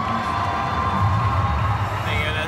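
Crowd noise at a Comic-Con in London, with cheering and a scream rising over a steady hubbub of voices, close and loud throughout.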